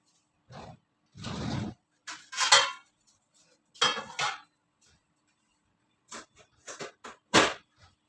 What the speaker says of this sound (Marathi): तर मी आता हा रवा भाजून काढून ठेवते बाजूला.